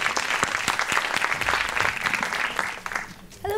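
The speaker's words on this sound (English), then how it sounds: "Can we have a round of applause?" Audience applause fills a conference panel session on digital culture, dense steady clapping throughout that fades slightly near the end as a voice begins.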